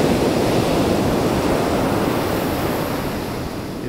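Steady roar of ocean surf washing onto black-sand Keramas Beach in Bali, a continuous broadband wash with slight wind rumble, close and loud, with no voices.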